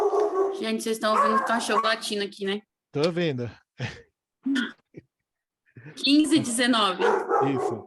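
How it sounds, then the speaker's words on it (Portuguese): A dog barks a few short times in the background while people talk over and between the barks. "vocês estão ouvindo o cachorro latindo aqui"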